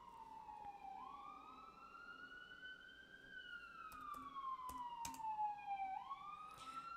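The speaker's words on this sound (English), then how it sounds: "So we'll get started right after the siren passes" An emergency vehicle siren wails past, rising and falling in long sweeps, fairly distant over steady low traffic rumble with a few faint clicks.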